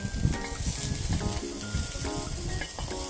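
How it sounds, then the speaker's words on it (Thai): Chopped onion sizzles and crackles in hot oil in a wok while being stir-fried for Thai-style egg fried rice with ham, a steady close frying hiss with occasional stirring scrapes. "ทำการผัดคั่วหอมใหญ่ไปกับกระทะแล้วก็น้ำมันแบบนี้เลยนะครับ"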